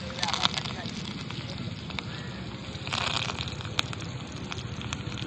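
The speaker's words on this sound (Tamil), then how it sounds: "நல்லா அடுப்பு ஜோரா எரியுது" A wood fire burns briskly in a roadside cooking stove, a dense continuous crackling and roaring with sharp pops, close, while people talk over it.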